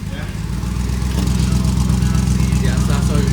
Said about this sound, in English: give me a little rev.